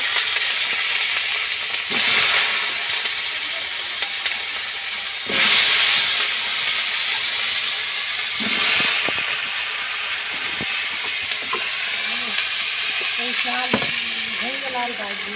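Potatoes fry in hot oil in a pan for a fish curry, a loud continuous hissing sizzle with a few sharp surges and faint stirring knocks, no clear voices over it.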